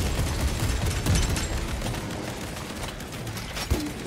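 A weapon's alternate fire in Space Marine 2 sounds as a dense barrage of rapid shots and impacts in the thick of battle, loud and continuous with a sharp bang near the end.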